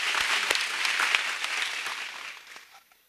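An audience claps at a kindergarten graduation ceremony, with moderately loud scattered applause that thins out and fades away over about three seconds.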